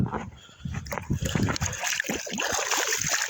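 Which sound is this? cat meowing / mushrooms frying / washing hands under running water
washing hands under running water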